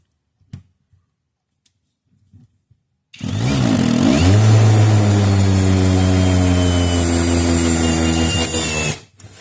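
A cordless hammer drill, an AliExpress clone of the DeWalt DGD805, drilling up close. A few faint taps come first, then the motor spins up with a rising whine and holds a loud steady drone for about six seconds before cutting off.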